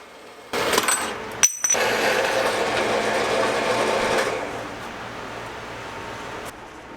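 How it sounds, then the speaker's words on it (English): A power tool cuts through 5/16-inch (8 mm) aluminum plate in a loud, sustained buzzing cut lasting about four seconds, then the sound tapers off into quiet. "Just marking her out and cutting her down to size."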